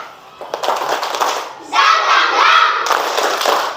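A standing audience, asked to get up, claps together in unison with loud, dense rhythmic clapping mixed with shouting voices. The sound swells sharply midway and keeps going to the end.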